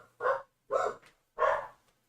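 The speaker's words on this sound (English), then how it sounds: "Those are the dogs." Three evenly spaced barks come from a dog, close and fairly loud, each short and sharp with a brief gap between, in an otherwise quiet setting.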